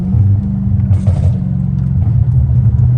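A straight-piped Dodge Hellcat Redeye rumbles low and loud close by, with a few faint crackles over its steady exhaust drone.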